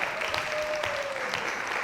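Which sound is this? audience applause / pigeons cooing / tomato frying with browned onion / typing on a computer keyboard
audience applause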